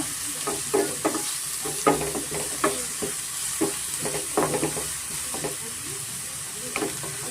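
Ginger and garlic fry in hot oil for drumstick leaves egg rice, with a close, steady sizzle broken by repeated scraping and stirring strokes of a spoon against the pan, no voices.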